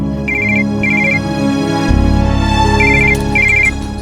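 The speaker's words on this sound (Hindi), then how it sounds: "आनंद अरे तुम बार बार क्यों फोन कर रही हो?" A phone ringtone for an incoming call plays as a loud electronic melody of bright repeated chirping notes in short bursts over a sustained tone, with no talking.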